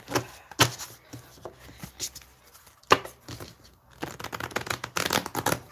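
Tarot cards being shuffled by hand at a table, a series of close, papery riffles and slaps coming in irregular bursts, with a longer busy flurry of shuffling near the end.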